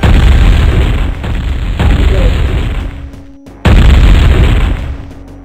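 Bombs explode in Warcraft: Orcs & Humans, a series of loud booming blasts with deep rumbling tails, a short quiet gap, then another heavy detonation.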